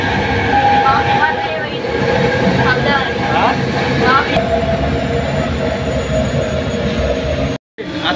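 Steady, loud rumble of a passenger train travelling from Kolkata toward a village in Birbhum, with continuous wheel and carriage noise, faint high squeals and a brief dropout near the end.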